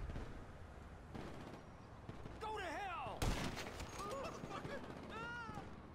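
Sniper rifle fire in a Grand Theft Auto style video game, a sharp single loud crack amid busy game sounds and scattered pops, with someone talking over it.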